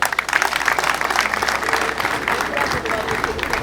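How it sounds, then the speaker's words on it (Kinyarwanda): Applause for local leaders at a gathering with cinema stars in Musanze, Rwanda, a steady close crowd clapping that carries on without a break for several seconds, mixed with some talk in the background. "dukomere ubuyobozi amashyi menshi cyane"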